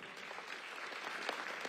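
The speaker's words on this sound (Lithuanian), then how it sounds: "Aplodismentai." Audience at an award ceremony for Klaipėda's woman of the year applauds steadily, a dense even patter of many hands sustained throughout at moderate level.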